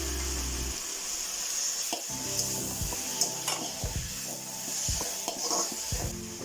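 Dark soy, red chilli and tomato sauces with a little vinegar sizzle in a fried rice pan, the continuous frying hiss overlaid by repeated scraping and stirring strokes of a spatula against the metal.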